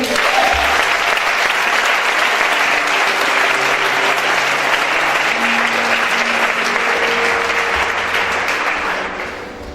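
A church congregation applauding and cheering the Lord, sustained loud clapping from a large crowd that holds steady for several seconds before tapering off at the end.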